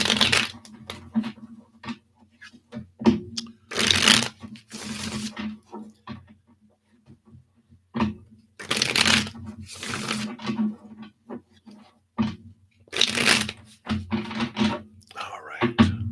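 A Chinese tarot card deck is shuffled in repeated bursts of papery riffling and soft slapping, close and fairly loud, broken by pauses and by a voice speaking quietly between shuffles.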